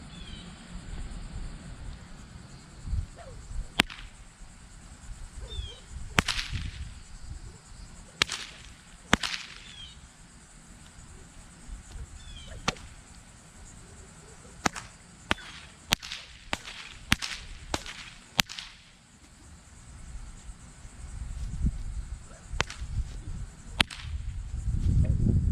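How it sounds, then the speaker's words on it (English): A newly made fire whip delivers a series of sharp, loud cracks, single and in quick bursts, spread across the stretch with quieter rustling and ambient rumble between them. "So this is the fire whip that we just made. We're gonna give it a couple cracks,"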